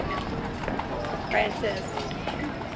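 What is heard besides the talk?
horses on a cattle drive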